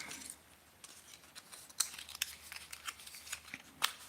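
Scissors snip through plastic packaging around a new 6-foot fishing rod, a few sharp, brief cuts at about 1.8, 2.2 and 3.8 seconds, fairly close and quiet, with soft rustling of the wrapping in between.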